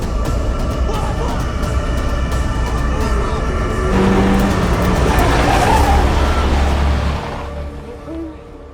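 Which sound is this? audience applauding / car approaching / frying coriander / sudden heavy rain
car approaching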